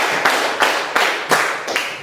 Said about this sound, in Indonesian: tepuk lima kali